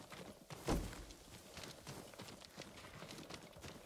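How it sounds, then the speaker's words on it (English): Faint, soft hoofbeats of a horse in the video game Ghost of Tsushima clop along in an uneven walking rhythm, with one louder thud near the start, fairly quiet and distant. "Oh, that's his horse."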